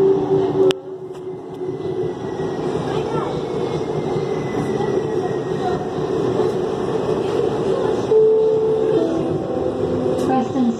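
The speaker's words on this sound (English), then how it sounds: "about the loudness on the train" A Red Line metro train running, a steady loud rumble and roar from inside the car with a brief tonal squeal near the end, heard alone for most of its length.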